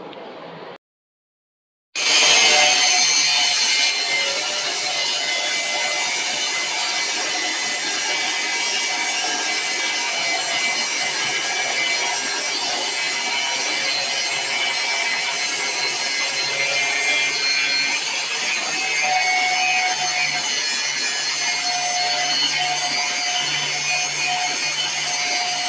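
A power grinder cuts and grinds metal legs for a tank, a loud, steady, harsh whine that runs on without a break after a brief gap at the start.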